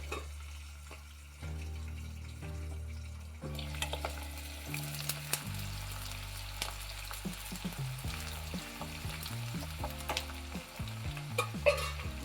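Onions frying in a pan with mustard seeds and curry leaves, a soft close sizzle broken by scattered spatula scrapes and light metallic clinks, growing busier partway through, with no voices.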